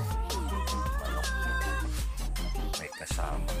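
Rhode Island chicken on a small farm, clucking in a steady run of calls over loud continuous background music, with no talking.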